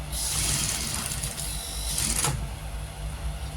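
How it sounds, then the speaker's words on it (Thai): Sewing machine running with its upper thread tension loosened, a steady mechanical whir with rapid stitching rhythm throughout, close and fairly loud, easing off near the end. "แล้วช่างจะเย็บดู"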